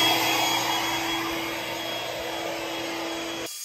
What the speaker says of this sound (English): we just plug it back in and then turn it counterclockwise, and then it sucks the air out